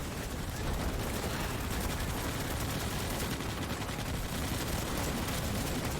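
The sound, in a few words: gunfire from shooting bugs in Starship Troopers: Extermination video game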